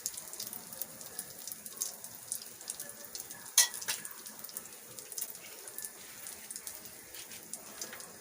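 Onion omelette cooking gently in a pan over low heat, giving a faint, steady sizzle with soft crackles and one brief louder pop partway through, with no talking.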